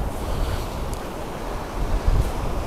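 Strong wind buffets the microphone on the Bouctouche Dunes by the shore, a steady low roaring rumble with louder gusts near the end, surf blending into the blustery noise.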